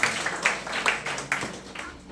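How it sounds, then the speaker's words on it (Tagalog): Congregation clapping in a church during a Filipino worship service, a dense steady patter of many hands that rises in several bursts over about two seconds, moderately loud and close. "Pumalakpak po sa Panginoon."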